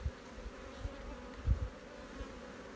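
Honey bees buzz around an opened hive during a spring check of the brood frames, a soft, steady drone with occasional closer passes.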